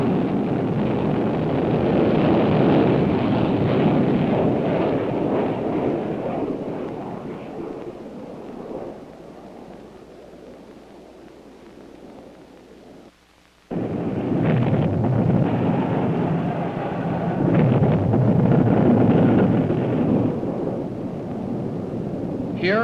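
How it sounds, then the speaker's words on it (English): The Tumbleweed research rocket launches from the Naval Missile Facility at Point Arguello with a sustained, broad roaring rumble like wind. The roar fades midway, cuts out briefly, then surges again loud and steady. "the research vehicle Tumbleweed, launched from the Naval Missile Facility"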